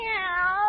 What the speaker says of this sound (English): She's only a kitten.